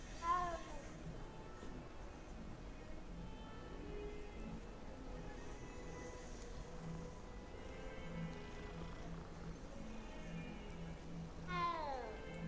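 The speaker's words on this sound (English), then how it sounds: "There's two kitties here." Cats meowing in the video game Hogwarts Legacy, with a few distinct meows rising over a soft background ambience, the loudest cry near the end.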